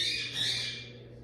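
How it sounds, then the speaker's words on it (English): Harsh, shrill squawking from a pet parrot in a kitchen, loud at first then easing off, over a low steady hum in the background. "So we have a parrot, that's who you hear in the background."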